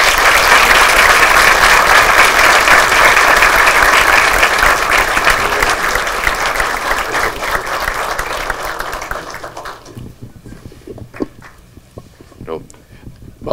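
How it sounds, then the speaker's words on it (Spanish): An audience at a book presentation breaks into loud sustained applause that thins into scattered claps after about ten seconds, with faint voices and shuffling as it fades. "quiero saludar esta iniciativa con un caluroso aplauso de entusiasmo"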